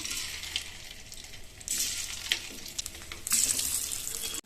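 Cauliflower pieces for cauliflower 65 deep-frying in hot oil make a continuous bubbling hiss that swells in louder bursts, close and without speech.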